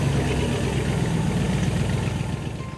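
A classic hydroplane boat's engine idles on a cool fall morning on Gravenhurst Bay, Muskoka, with a steady, loud, close low rumble that holds throughout and eases slightly at the end.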